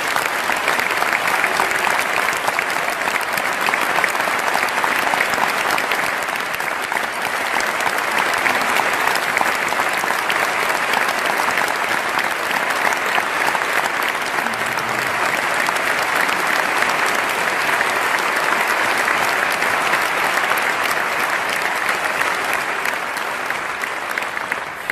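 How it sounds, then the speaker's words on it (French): A theatre audience at a tribute show for Johnny Hallyday applauds steadily and loudly, a dense continuous roar of clapping lasting the full stretch with little variation. "on peut l'applaudir, c'est ce qu'on fait."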